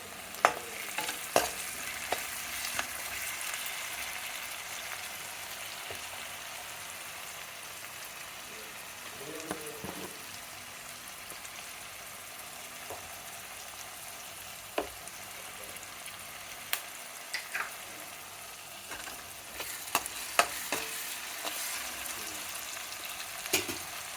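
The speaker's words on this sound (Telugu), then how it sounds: "రెండు నిమిషాలు వేగాలి." Tomato and onion pieces frying in a pan for sabudana khichdi, a steady soft sizzle throughout with occasional sharp stirring clicks and scrapes, fairly quiet and close.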